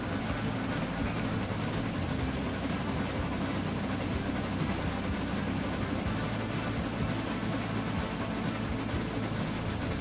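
Commuter train passing in the Transport Fever game, a steady loud rumble and rail roar with faint rhythmic clicks, holding constant and unbroken throughout with no voices.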